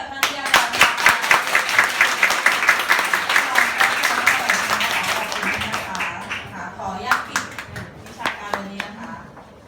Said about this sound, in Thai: ขอเสียงปรบมืออีกครั้งให้